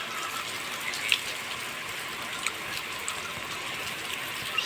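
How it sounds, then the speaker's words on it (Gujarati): Steady rain falling outdoors with water dripping off the eaves, a constant broadband hiss punctuated by a few brief, sharper drops, moderately close and fairly faint, with no one talking. "વરસાદ જુઓ તમે નેવા પડે"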